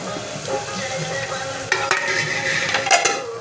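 Chicken masala gravy sizzles in oil as it is stirred, an even frying hiss broken by sharper scraping and clinking stirs in the second half, close and loud.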